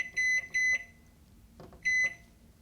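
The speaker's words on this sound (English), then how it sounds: "Kitchen timer, 30 minutes." A microwave oven being set as a kitchen timer gives three short, bright electronic beeps, two close together and then one after a pause, with a soft tap of button presses in between, in a quiet kitchen.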